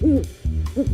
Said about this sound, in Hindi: क्या तुमने सुना? उल्लू ने कहा जगह सुरक्षित नहीं है।